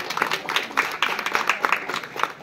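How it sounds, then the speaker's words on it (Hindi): An audience at a village honouring ceremony claps to welcome the chief guest. The applause is scattered and moderately loud, with irregular bursts of hand claps and no voices over it. "मुख्य अतिथि मंगलू साहू तांको समस्ते करताली देकर स्वागत करूँ"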